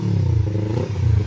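Motorcycles at a bike race give a low, rumbling engine drone that rises and dips as they rev, heard loud and close throughout.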